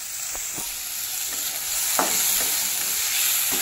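Chopped onion and tomato fry in a pan for a green peas curry, a steady close sizzle broken by several sharp scrapes and clicks of a spoon stirring, with no talking.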